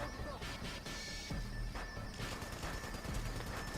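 Rapid gunfire in a French-language military shooter game mission to repair a fort, crackling bursts layered under steady battle noise while voices talk over it.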